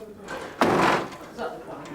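A door bursts open with a loud broadband crash about midway through, forced during an eviction, with a sustained rattling impact followed by quieter knocks; voices murmur faintly in the background.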